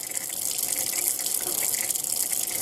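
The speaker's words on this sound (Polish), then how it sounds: "Można teraz odkręcić ciepłą wodę, zimną, tak aby spuścić powietrze z układu." Water from a caravan's hot and cold tap runs steadily to bleed air out of the freshly filled plumbing system, giving a continuous close hiss and splash with no pauses.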